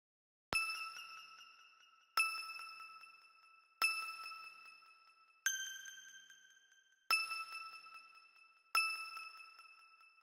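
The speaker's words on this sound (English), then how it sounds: "And then there's just a backing bell that is" A high, bright synth bell tone in a high octave strikes six times at an even, slow pace, each note ringing with a sharp attack and a long fading tail.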